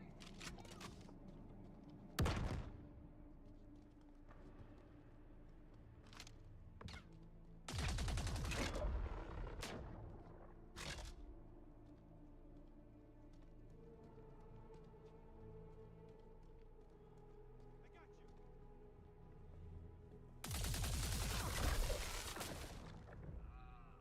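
Video game gunfire laying down covering fire, with bursts of sustained automatic shots and a few single cracks scattered across a quieter stretch of background noise, loud and close with gaps between volleys.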